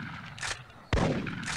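Gunshots fired at a raccoon in the arcade hunting game Big Buck Hunter Pro: two loud, sharp blasts close together, each with a short decaying tail.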